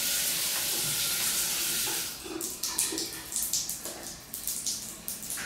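Water from a house shower runs as a steady hiss, then gives way to uneven splashing and gurgling as it drains, fairly close and alone without speech.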